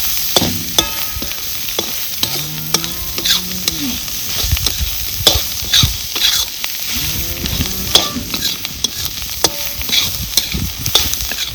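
Crushed green chili kharda for village-style thecha sizzles and crackles in hot oil while a spoon stirs it, loud and close. The frying carries on steadily, with scraping strokes at intervals and a voice speaking briefly at times.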